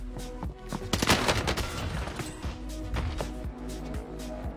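Rapid bursts of gunfire ring out in a video game, with clustered shots and short volleys repeating across the moment at a loud, close level.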